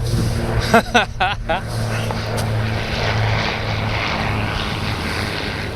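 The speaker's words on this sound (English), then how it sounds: "Did a plane just go by?" A low-flying airplane passes overhead, a steady broadband rumble that holds for the whole stretch, with a few brief voices or knocks near the start.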